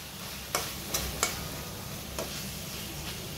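Chicken kala bhuna is stirred and cooking in a pan: a steady, moderate sizzle runs throughout, broken by a few sharp clicks and scrapes from the stirring utensil.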